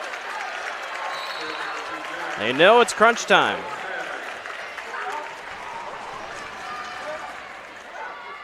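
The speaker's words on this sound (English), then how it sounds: "the crowd's starting to really get into it for the Warriors" Crowd at a girls' high school state volleyball quarterfinal cheering and clapping for the Warriors, a steady roar with a brief louder surge of shouts, under a commentator's voice.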